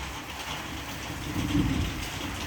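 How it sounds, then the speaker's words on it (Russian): Steady rain hisses evenly throughout, with a low rumble of thunder swelling briefly near the middle; no voices. "У нас дождь идет."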